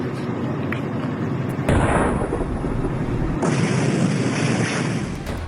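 Deep, rumbling booms from Israeli air strikes roll in one after another, heavy low blasts from a distance with a sustained roar between them and no talking.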